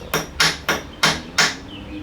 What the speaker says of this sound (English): With a hammer or a screwdriver, just bend the little flap.